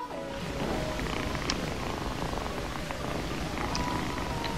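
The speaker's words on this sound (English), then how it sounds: "It was so comfortable that we can hear its purring through Marlon Brando's microphone." A kitten purrs on a film set during The Godfather, a steady close rumbling purr running continuously under faint room noise, with no speech.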